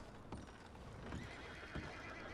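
In the video game Red Dead Redemption 2, a horse whinnies while hooves clop steadily along, both fairly close and clear with no talking.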